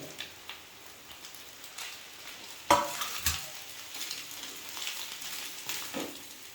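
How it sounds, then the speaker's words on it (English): Greens, egg and onions dry toasting in a pan, with a soft, continuous crackle and sizzle, a few sharper clinks of stirring, and no voices. "again dry toast it for some time so that it is cooked well"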